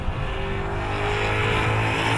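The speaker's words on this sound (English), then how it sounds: "Now that is a John Rossiter built V8, and it's made to make horsepower." A 1968 Camaro's John Rossiter-built V8 of about 420 to 450 horsepower runs loud and close at a track, a steady, dense engine roar holding a low, even drone with no talking.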